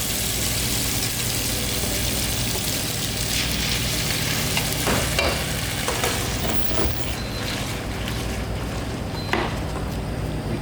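Hot pasta and chili flakes sizzle and fry in a pan, a steady close crackle with a few louder clatters of stirring partway through.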